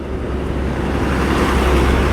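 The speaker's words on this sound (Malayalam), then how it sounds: "ആ ചൂരൽമലയ്ക്ക് ബസ് പോകുന്നുണ്ട്" Steady road-vehicle rumble from a bus travelling the road to Chooralmala, a continuous low drone with broad traffic noise, fairly close and unbroken, no voices.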